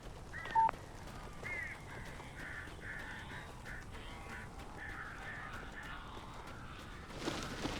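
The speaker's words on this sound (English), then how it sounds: "These birds are weird." Crows caw in the Alan Wake video game, a string of hoarse, evenly spaced calls that sound faint and a little distant over a low, quiet ambience, with a brief burst of noise at the end.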